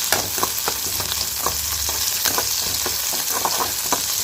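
Green chillies and okra sauté in a pan with a loud, dense, continuous sizzle, close up, with frequent quick spatters and stirring scrapes over a steady hiss, and no voices.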